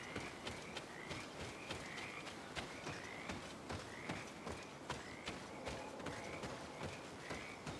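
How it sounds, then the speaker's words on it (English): Frogs croaking in the video game GreedFall, a repeating chorus of short rasping calls over a steady nighttime ambience, moderately loud and continuous with no talking. "Listen at the frogs."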